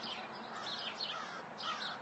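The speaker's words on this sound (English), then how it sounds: "And we got the crows, the proverbial crows that come out." Crows caw a few times in the distance, harsh calls over low outdoor background noise.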